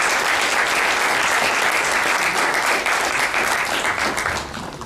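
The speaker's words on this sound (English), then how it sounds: "I think that deserves a big round of applause for them." Sustained round of applause from an audience at an automation awards event, dense steady clapping that carries on strongly, then begins to thin out near the end.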